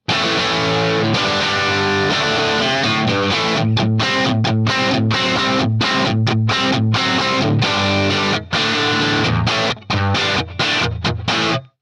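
A loud, crunchy overdriven electric guitar plays chords and riffs through an Axe-Fx III plexi amp model with a 4x12 Brit 70s greenback cab, with brief gaps near the end.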